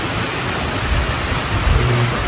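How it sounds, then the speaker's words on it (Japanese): Heavy rain falls steadily near a Noboribetsu hot spring in Hokkaido, a loud, dense, unbroken hiss with no voices. "雨が本当にきつくなってきたので、温泉にして正解です。"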